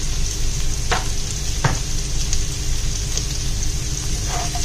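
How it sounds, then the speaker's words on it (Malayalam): Onions sauté in hot oil for a Kerala-style prawn roast, giving a continuous loud frying sizzle with a few sharp clicks and scrapes as they are stirred, with no talking. "നല്ലപോലെ വഴറ്റിയെടുക്കാം. സവോളയൊക്കെ നല്ലപോലെ നിറം മാറി വരണം."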